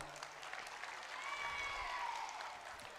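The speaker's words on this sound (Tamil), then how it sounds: "என் கருத்துக்கு ஒத்துப்போவதாக இருந்தால் கரகோஷத்தை தாருங்கள்." An audience at a Tamil-language talk applauds in a soft, steady wash of clapping that stays even and fairly faint for a few seconds.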